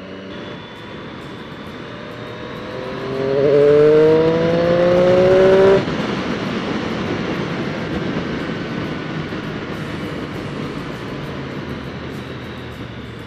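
Engine of a Streetfighter-type motorcycle revving up hard toward 6000 rpm, a rising droning pitch swelling loudly for a couple of seconds before easing off, over steady road and wind noise.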